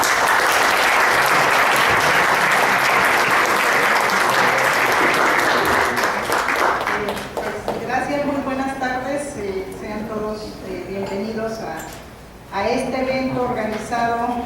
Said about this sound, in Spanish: démosle un caluroso aplauso a la doctora Blanca